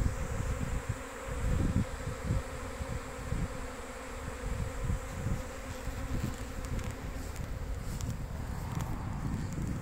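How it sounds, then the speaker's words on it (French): A swarm of bees buzzes continuously nearby, a dense droning hum that holds steady throughout, with some low thumps and rustling beneath. "il doit encore avoir un essaim quelque part"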